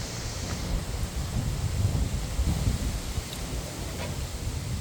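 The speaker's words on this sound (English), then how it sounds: "it's so windy" Steady outdoor wind gusts buffet the microphone with a low rumbling roar across the whole stretch, and no one speaks.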